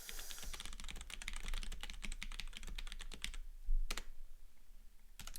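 Rapid clattering keystrokes on a computer keyboard in a quiet room, a dense run of close, crisp clicks that pauses briefly before a few final isolated taps.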